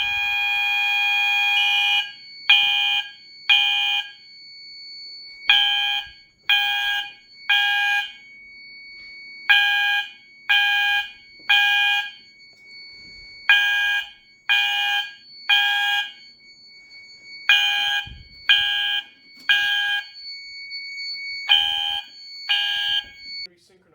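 Synchronized fire alarm horns sound a long initial blast, then repeat short, evenly spaced blasts in a steady rhythm, loud and close throughout.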